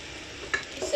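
Chicken spaghetti and masala get stirred in a pan, a soft scraping and light sizzle close by, with a couple of small clinks from the utensil toward the end.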